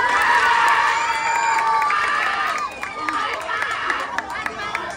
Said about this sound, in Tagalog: Sabay-sabay ho nating hiyawan at palakpakan